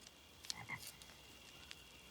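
A bullfrog-type frog (wawaron) croaks in a couple of short, rough calls near the start, fairly close against a faint background hiss, with no voices.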